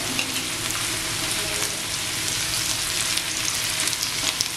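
Chopped onion sizzling loudly in a hot pan after salt is added, a steady dense crackle and hiss with faint stirring scrapes throughout, close and continuous with no talk.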